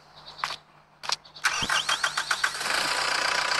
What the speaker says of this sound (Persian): تراکتور کوچیک ما یا به زبان خارجی ها اسمال تراکتور که از برند مک فورآره.